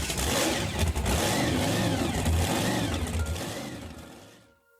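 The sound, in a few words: boat motor sputtering and stopping, audiobook sound effect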